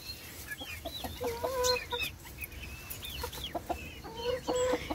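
Free-ranging hens in a farmyard enclosure cluck repeatedly in short, clipped bursts, several birds overlapping at moderate distance with a steady low background hum.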